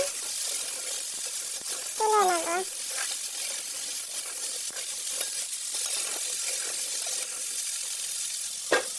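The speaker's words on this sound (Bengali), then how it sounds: "ওরই মধ্যে পটল আলুগুলো দিয়ে ভেজে নিলাম।" Pointed gourd and potato pieces frying in hot oil in a pan, a steady soft sizzle with occasional stirring, while someone speaks briefly over it.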